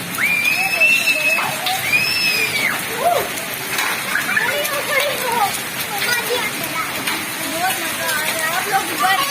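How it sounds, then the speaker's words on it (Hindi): Heavy rain mixed with large hailstones pelts down in a residential lane, a dense steady patter with scattered sharper impacts throughout, while children play outside and distant voices and a whistle-like squeal rise intermittently. "ये देखें बारिश होकर बर्फ ओले पड़ रहे थे, मोटे मोटे बड़े बड़े"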